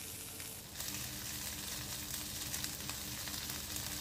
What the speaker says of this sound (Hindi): अब इसमें कटी हुई सारी हरी मिर्च डाल देंगे। बस थोड़ा सा इनको भूनेंगे 40-50 सेकेंड के लिए।